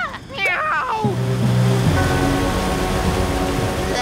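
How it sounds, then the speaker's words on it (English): Broad, steady roar of rushing water from a cartoon waterfall, loud and continuous, with a cartoon character's voice and musical tones at the start before the water sound fills everything. "The word you're looking for is waterfall."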